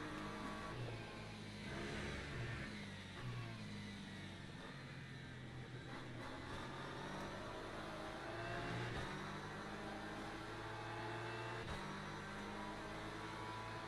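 Race car engines in the Le Mans Ultimate sim, including a BMW, accelerating as a steady layered whine and hum with shifting pitch, held at moderate loudness throughout without talk.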